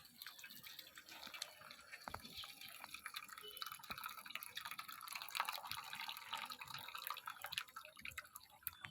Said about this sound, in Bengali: তো আমি এখন এটা ছেঁকে নেব।